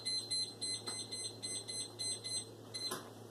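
A kitchen timer is set while corn on the cob cooks on the stove, giving a rapid run of short, high, evenly spaced electronic beeps, fairly faint and close, with no talking.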